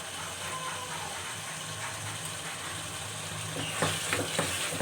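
Chicken and turnip curry with fresh coriander is stirred in a pan, giving a continuous sizzle with scraping, clattering stirring noises that grow a little louder toward the end.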